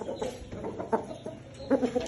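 A fighting rooster of about five kilograms clucks nearby in short, throaty bursts, two or three clucks at a time with brief pauses between them.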